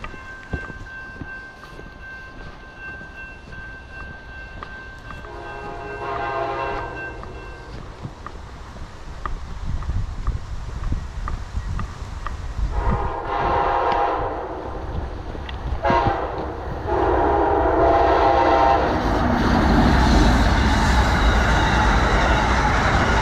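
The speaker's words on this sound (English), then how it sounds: "That was a short and fast Amtrak. northbound, hammer down." A northbound Amtrak passenger train rumbles past at speed, swelling to a loud roar, with a long horn blast sounding as it approaches, near DeLeon Springs, Florida.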